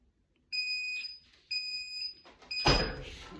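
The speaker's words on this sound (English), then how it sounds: "And you just wait until you hear that beep." A heat press finishing its timer while pressing a T-shirt gives repeated high electronic beeps in bursts, fairly clear and close, followed by a louder clunk or rustle as the press is handled.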